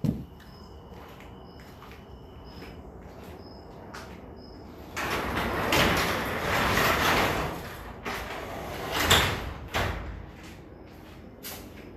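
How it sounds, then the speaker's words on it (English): A home garage door is let down with a rumbling, rattling slide that lasts several seconds, then a few clunks and a final thud. Quieter mechanical ticks come before it. "I gotta let this garage door down."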